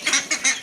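Ducks eating chicken liver tossed to them alongside chicks give three short, nasal honking quacks in quick succession, close by.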